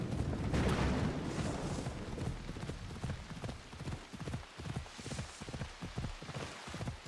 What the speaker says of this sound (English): fight in the rain.